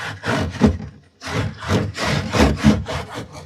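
A Mr. Scrub nonscratch scouring pad is scrubbed back and forth over a filthy rail surface, making loud, close, rhythmic rasping strokes with a brief pause partway through.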